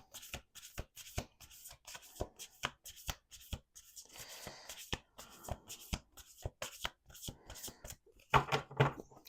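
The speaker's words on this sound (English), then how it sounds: "Let's do 2 more shuffles." Rapid, crisp riffling of oracle cards being shuffled in repeated bursts, with soft handling noises in between and a louder flurry near the end.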